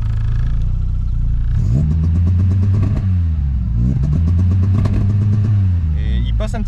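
A VW Golf GTI engine revved repeatedly against a rev limiter set around 2000 rpm, with loud close revs climbing and then bouncing in rapid stuttering cuts at the limit, a steady idle drone between them.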